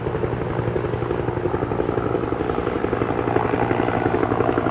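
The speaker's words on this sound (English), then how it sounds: "we suddenly have helicopters flying Serbian flags" Helicopters flying overhead in Belgrade, Serbia, near St. Mark's Church; their rotors thump steadily and loudly throughout, a continuous chopping drone with no pauses.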